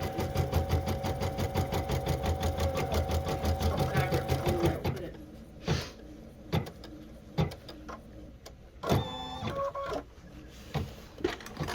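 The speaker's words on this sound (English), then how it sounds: "This is not your mom's sewing machine." An embroidery sewing machine stitches in a rapid, steady mechanical rhythm, then pauses and restarts with whirring bursts and clicks; voices talk alongside it.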